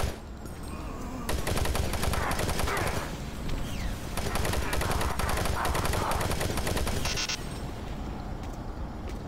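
Rapid bursts of automatic gunfire in Doom 3, a 2004 PC survival horror shooter set on Mars, hammering almost continuously for several seconds with brief pauses, loud and close.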